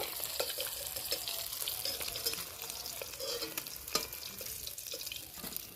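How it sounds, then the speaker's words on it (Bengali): More rui fish pieces frying in oil give a faint, close crackling sizzle with occasional clicks and soft stirring, with no talk. "বাদ বাকি মাছগুলো আবার ভেজে নেব"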